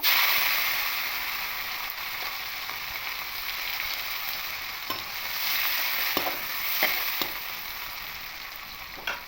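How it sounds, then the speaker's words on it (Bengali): Chopped onions, panch phoron and dried red chillies fry in hot oil for a fish curry with potato and taro, giving a steady close sizzle broken by a few sharp stirring scrapes, with no talk. "এবার এই তেলের মধ্যে ফোড়নে পাঁচ ফোড়ন দেব দুটো শুকনো লঙ্কা দেব পেঁয়াজ কুচিগুলো দিয়ে দেবো"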